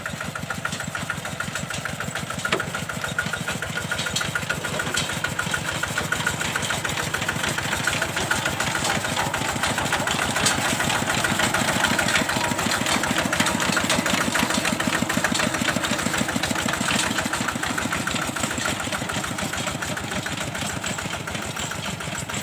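Riding lawn mower engine idling steadily at close range, a continuous even rumble with a rapid firing pulse that swells slightly midway, with no voices.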